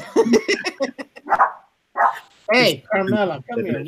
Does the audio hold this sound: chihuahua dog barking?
yes